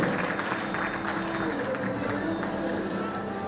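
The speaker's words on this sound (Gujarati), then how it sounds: "તાળીઓના ગણગણથી વધાવી આપો." Steady applause from a crowd at a centenary festival donation ceremony, dense continuous clapping with a voice over it throughout.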